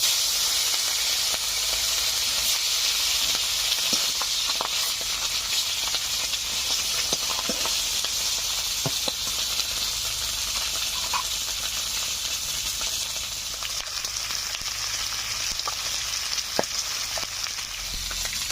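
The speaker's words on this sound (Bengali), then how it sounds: "আরো কয়েক পিস মাছ রয়েছে, এগুলোকেও ভাজবো। কড়াইতে দিয়ে দিচ্ছি আর একটু সরিষার তেল।" Rohu fish pieces fry steadily in hot mustard oil in a kadai, giving a continuous close sizzle and hiss with scattered small pops and crackles throughout, no voices present.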